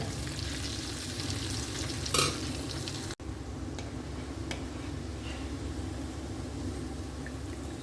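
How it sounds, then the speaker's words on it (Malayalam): Prawns fry in hot oil for prawn pickle with a continuous dense crackle and sizzle, heard up close. A single sharp tap lands near the middle and a few faint ticks follow. "ഇനി നമുക്ക് നമ്മുടെ ചെമ്മീൻ ഇതൊന്ന് ഫ്രൈ ചെയ്തെടുക്കാം"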